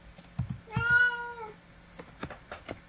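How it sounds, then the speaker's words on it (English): A pet cat lets out a single clear, rising-then-falling meow close by, with light tapping and small clicks around it in a quiet room. "my cat seems to require my attention."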